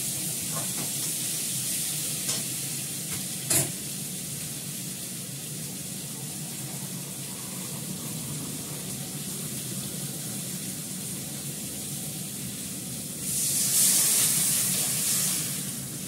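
Potatoes sauté with pepper, turmeric and salt in a pan, giving a continuous, even sizzle and hiss throughout, with a brief louder spitting surge near the end.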